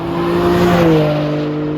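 The all-new M2's engine revs loudly nearby, a smooth rising and falling tone that swells mid-way and then settles, heard alone without voices.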